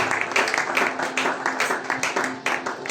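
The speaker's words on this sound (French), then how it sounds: "We put our hand together for the glory of God." A church congregation claps hands together in praise, a dense, steady patter of many palms ringing out at close range over a low background hum, continuing without a break.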